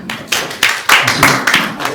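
Audience at a Democratic state senate candidate debate in a hall applauding, a loose patter of separate claps from a small crowd, fairly close and uneven.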